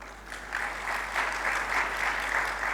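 A seated congregation at a religious discourse breaks into sustained applause, a dense, even wash of many hands clapping together with a low hum beneath.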